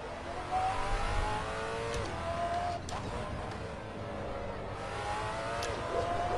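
A racing video game car engine revs and roars steadily, with gear-shift dips in pitch and a sustained whine throughout, loud and continuous without pause.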